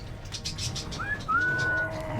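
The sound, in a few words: pigeons cooing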